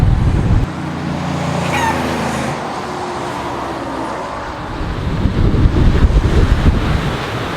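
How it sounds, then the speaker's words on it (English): Strong wind roars across a coastal headland and buffets the microphone in a loud, continuous rush, with heavy low rumbling gusts that swell even stronger toward the end. "Man, it is windy."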